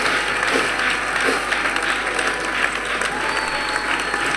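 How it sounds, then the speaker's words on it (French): Church congregation at a French-language worship gathering breaking into loud, sustained applause that fills the room, with a voice faintly audible beneath the clapping. "Acclamez. Clap."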